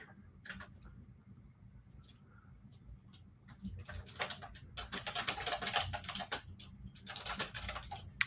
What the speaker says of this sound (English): I'm typing the description for the stream on Monday.